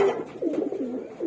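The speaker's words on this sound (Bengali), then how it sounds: "এগুলো হচ্ছে নর কবুতরগুলো।" Male khoira-necked pigeons coo in a loft, a close, soft, rolling series of low throaty calls that runs steadily with no talking.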